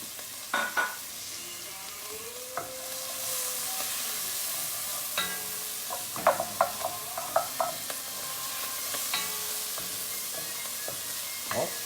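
Garlic and onion sautéing in oil in a pot, a steady bright sizzle with occasional spoon clinks and stirring scrapes.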